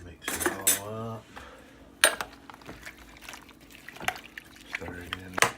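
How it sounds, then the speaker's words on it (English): Venison marinade is stirred in a slow cooker crock pot, with sharp spoon clinks and scrapes against the ceramic pot and wet sloshing in between, close up, while someone talks. "Alright, mix it all up."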